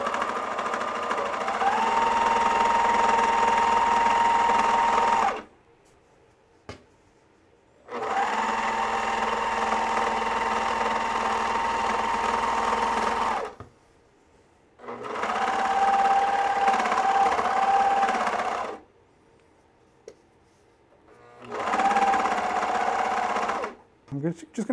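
A Bruxel Sienna 4-thread overlocker serger stitching loose woven 4-way stretch knit fabric, loud close whirring in four long bursts separated by short silent pauses.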